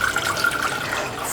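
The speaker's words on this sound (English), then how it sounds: "I'm going to pour 1/3 of a cup of water" Water running steadily into a pot for boiling a third of a cup with quinoa seeds, a brief continuous close pour with no talk.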